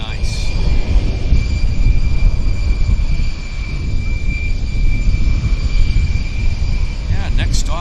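Airbus A220 jet departing Vancouver on runway 26 left for JFK, New York, its engines giving a loud, steady roar that holds throughout at close range.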